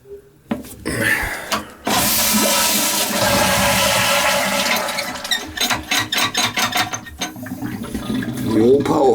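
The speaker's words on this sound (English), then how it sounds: "The old power flush." A power flush toilet, one with a leak at its base, flushes with a loud sudden rush of water that runs steadily for several seconds and then breaks into gurgling, sputtering refill sounds nearby.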